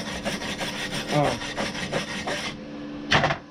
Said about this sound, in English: you run the brush on it, brushes off any excess slag you may have left